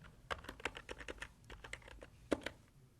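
Fingers type briskly on a computer keyboard, a quiet, close run of uneven key clicks with a few sharper taps and no talking.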